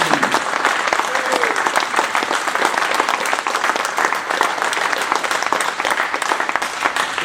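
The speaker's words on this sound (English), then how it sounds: "If you could give Dave a round of applause." An audience at an evening presentation applauds for Dave Locke, with loud, sustained clapping that runs evenly for several seconds and a few voices murmuring underneath.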